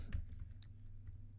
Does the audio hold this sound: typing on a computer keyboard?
yes